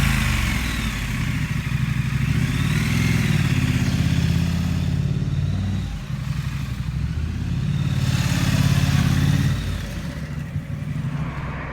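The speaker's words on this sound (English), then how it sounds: "this is a Triumph Scrambler 900" A Triumph Scrambler 900 motorcycle engine drones steadily up close at riding speed, swelling louder twice before easing back, with no talking.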